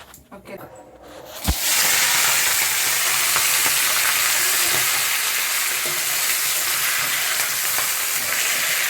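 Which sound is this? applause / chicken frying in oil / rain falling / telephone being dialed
chicken frying in oil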